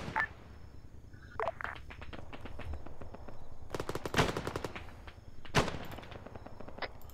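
Machine-gun fire in a World War II shooter game, a mounted MG spitting short bursts of sharp, evenly spaced rounds, some distant and quiet, others close and loud, with a faint steady hum underneath.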